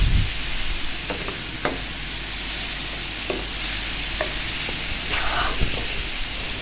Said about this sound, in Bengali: পেঁয়াজটা মশলাটা কষানো হয়ে গেলে টমেটো দিয়ে দেবো